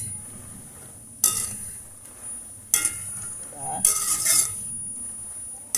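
Fried peanuts with garlic are stirred in a pan, giving three clear scraping, clinking strokes against the metal spaced a second or so apart over a faint sizzle and steady hum.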